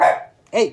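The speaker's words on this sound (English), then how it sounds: "That was my dog barking at my daughter." An indoor dog gives a single sharp bark close by. A person's loud shout follows right after.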